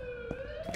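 An ambulance siren in the game The Coma: Recut, a steady rising electronic wail with faint thumps under it, brief and fairly close.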